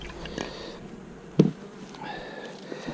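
Bees buzz steadily around an open beehive while more bees are shaken from frames into a box, with a close, louder burst of buzzing in the middle.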